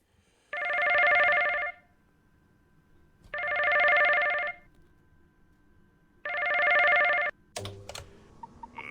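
Phone in the PizzaBear's Funworld video game rings three times in even, loud electronic bursts with short gaps between, followed by a click and faint clatter as the call is picked up.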